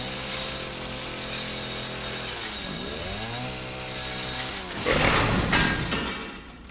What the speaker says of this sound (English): Oh, I broke my chainsaw.